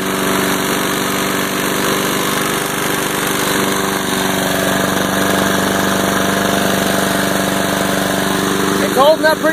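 Repaired lawn mower engine on a test run, droning loud and steady just above idle for the whole stretch, close by, with a few brief knocks near the end.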